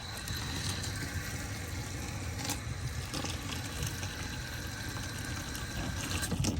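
Warm tap water runs steadily from a faucet for mixing mosquito dunk water, a continuous close splashing rush that holds the whole stretch without a break.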